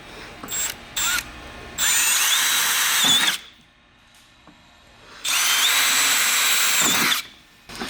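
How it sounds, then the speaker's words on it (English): A power drill with a 3/16-inch bit whines loudly in two long bursts, with short clicks and brief quiet gaps between them. "Using a 3/16 drill bit, we're going to drill our previously marked holes."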